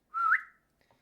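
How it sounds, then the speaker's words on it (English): A single short whistled note, rising slightly at the end, close and clear against near silence. "I can whistle. I could teach you."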